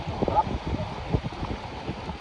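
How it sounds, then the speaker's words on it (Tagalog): Strong wind buffets the microphone outdoors during a rainstorm, with low, gusty rumbles, blustery and uneven throughout. "Sobrang lakas ng hangin."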